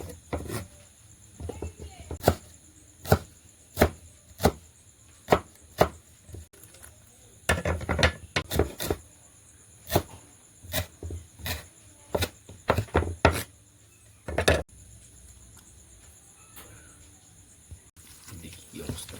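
A knife chops green chillies and coriander leaves on a board, sharp close knocks in a steady run that pauses and restarts, with a busier burst of quicker cuts midway.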